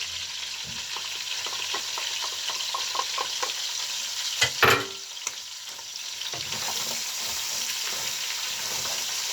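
Grated onion sizzles and fries steadily in butter and oil alongside chicken for a kabsa, with a brief louder clatter of stirring midway and continuous crackling throughout.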